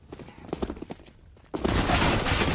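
Five-SeveN pistol shots in a CS:GO match: a quick cluster of sharp, close shots, then a sudden, loud, sustained wash of noise takes over.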